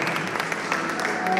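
An audience claps at a 2012 sportsperson-of-the-year awards ceremony, a short burst of dense, steady applause from a crowd in a hall, moderately loud and unbroken.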